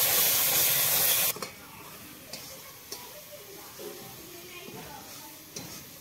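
Tomatoes cooking down in a pan for an egg bhujia: a loud steamy hiss for the first second, then a much quieter low simmer with occasional soft ticks and clicks.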